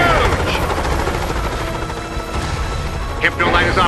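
Helicopter in the Monsters vs Aliens video game, a steady loud rotor and engine drone with gunfire-like bursts and whooshes, layered under character voices.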